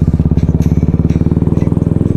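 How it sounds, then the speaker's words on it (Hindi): Motorcycles on the road, among them a red TVS Apache RR 310, a loud, close engine drone with a rapid regular pulsing throb, continuous and without talk. "ये मंजर देखने को दिख रहा है कि 4 बाइकें मेरे पीछे चल रही हैं।"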